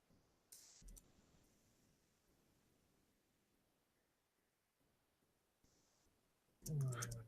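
Quick clicking bursts from a computer keyboard being typed on, faint and brief at first, then a louder close flurry of keystrokes near the end, with long quiet stretches between.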